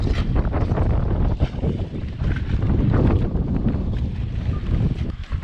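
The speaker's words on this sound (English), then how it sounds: "Still blowing 30 knots." Strong 30-knot wind blasts around a sailboat anchored in a rough, crowded anchorage, roaring and buffeting the microphone in loud, uneven gusts throughout, with no voices.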